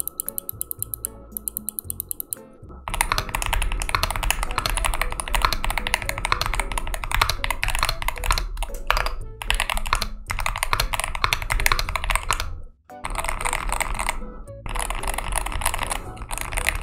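Fast, steady typing on a Zenblade 65 mechanical keyboard, close and crisp, with a short break early on and another brief pause near the end before the keystrokes resume.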